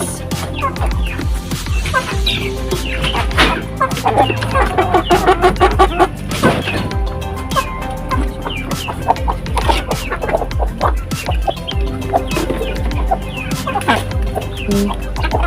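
Chickens clucking busily at feeding time on a rural farm, a dense, continuous chorus of close, overlapping clucks with occasional louder calls and faint scattered knocks.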